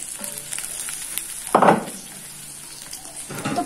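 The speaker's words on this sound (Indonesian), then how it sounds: "Masukin dulu tomatnya aja biar aman. Habis itu kita masukin rawitnya dan tutup dengan tutup panci biar aman." Tomatoes and bird's-eye chilies fry for a sambal in a pan, a steady low sizzle broken by one loud crackling burst as food hits the hot oil, with faint pan clatter near the end.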